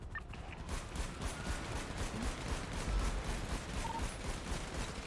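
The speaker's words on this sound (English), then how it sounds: "Shoot it now, go shoot it, shoot it, shoot it" Rapid gunfire rattles in a video game as shots are fired at a helicopter rotor, a dense continuous volley of crackling reports with mechanical clatter underneath.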